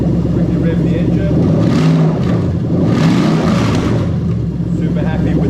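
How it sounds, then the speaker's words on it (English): Lexus LS430/SC430 engine swapped into an Altezza RS200 with a J160 manual gearbox, revved twice in quick bursts over a loud idle, with someone talking throughout. "Quickly rev the engine."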